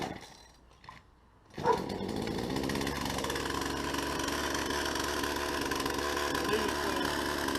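A chainsaw is pulled to life after two quiet, faint attempts, then catches and roars into a loud, steady running drone that holds close and continuous to the end.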